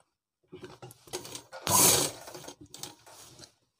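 A sewing machine stitches a girls' school dress in a short run of rattling mechanical whirring, peaking in one brief louder burst near the middle before tapering off.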